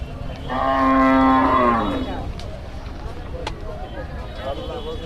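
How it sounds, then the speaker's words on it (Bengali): A large cow at a crowded Eid cattle market in Faridpur gives one loud, close, drawn-out moo lasting about a second and a half, followed by market bustle and murmuring voices in the background. "বিশাল বিশাল গরু তো"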